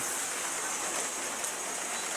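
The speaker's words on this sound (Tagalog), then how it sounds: "Abutan tayo ng ulan, no? Lakas." Heavy rain pours on a small farm, a dense, steady hiss that stays loud and even throughout with no voices.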